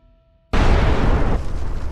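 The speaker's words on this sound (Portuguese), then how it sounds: "uma explosão superpoderosa faz o solo tremer" A massive meteorite strikes the ground with a sudden, thunderous explosion that bursts out of near silence and rumbles on loudly, easing slightly but still roaring to the end.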